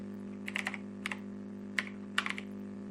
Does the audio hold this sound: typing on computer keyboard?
yes